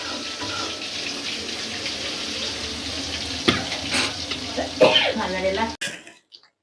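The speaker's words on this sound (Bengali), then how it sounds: "এই যে আমরা বেগুন ভাজতে আছি" Eggplant slices fry in a hot pan, a continuous crackling sizzle with a few clinks and scrapes near the end before it suddenly cuts to near silence.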